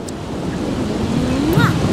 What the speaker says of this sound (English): The rain effect, by the way, is really, really loud.